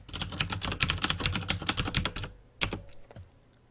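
Fast, dense clatter of typing on a computer keyboard while writing a config file, close and steady for about two seconds, then a few final keystrokes and a heavier thump after a short pause.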